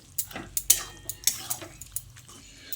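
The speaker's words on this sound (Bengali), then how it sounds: "এবার বাঁধাকপি আলুটাকে দিয়ে মশলার সঙ্গে খুব ভালো করে নেড়ে চেড়ে মিশিয়ে নিচ্ছি" A spoon stirs cabbage and potato with spices and a little water in a pan, giving close, irregular scraping knocks and clicks against the metal at an uneven rhythm.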